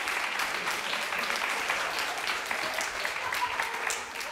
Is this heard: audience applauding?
yes